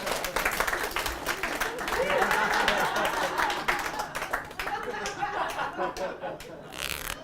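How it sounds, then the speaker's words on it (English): Audience at a magic and martini show applauding a volunteer: several seconds of lively clapping mixed with some chuckles and laughter, fading toward the end as a voice speaks over it. "this round of applause will be for you"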